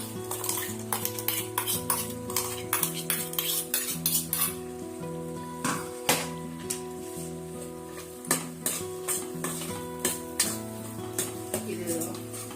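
A spoon stirs ground masala into softened tomatoes in a pressure cooker pot for soya chunk vegetable pulao, making repeated clattering scrapes and knocks against the metal over a low sizzle, with a voice talking underneath.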